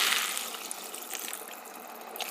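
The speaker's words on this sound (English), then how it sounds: "now I'm going to add 3 cups of water" Water pours into a pot of lentil soup, a continuous splashing stream that fades slightly after the start and carries on without any talking.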